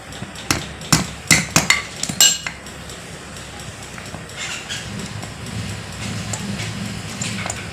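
About six sharp metallic hammer blows ring out in a quick, uneven run on a part of a Hero Pleasure Plus FI scooter, then stop and leave quieter background rumble and faint clinks.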